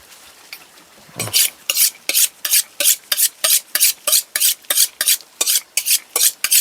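A knife sawing through fresh pork from a just-slaughtered small hog, loud rhythmic rasping strokes repeated steadily about twice a second, close and alone.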